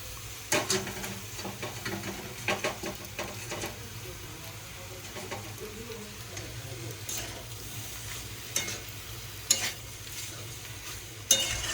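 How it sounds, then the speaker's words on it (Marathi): Boiled pasta is tipped into a pan of cooked vegetables and stirred. Repeated close scrapes and clinks of a spoon against the pan sound over a faint background sizzle. "याच्यामध्ये आपण टाकणार आहोत जो आपला बॉईल केलेला पास्ता आहे तो या भाज्या आणि हा गेला आपला पास्ता"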